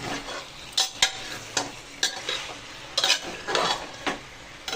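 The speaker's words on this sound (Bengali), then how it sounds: "দিয়ে তেলের সাথে আর পেঁয়াজের সাথে ভালোভাবে একটু নাড়বো, নাড়াচাড়া করবো।" Chicken is stirred with onions and oil in a pressure cooker over medium heat, a steady sizzle of frying punctuated by repeated scraping and clanking strokes of a utensil against the metal pot, close up and without speech.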